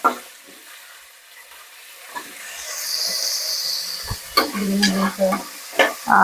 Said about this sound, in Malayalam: ഇതിനെ നമുക്ക് നൈസായിട്ട് കുറച്ചിനാ ഫ്രൈ ചെയ്തിട്ട് എടുക്കണം